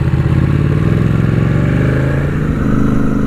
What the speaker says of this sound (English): Big fan of what Ducati now call their V2 engine.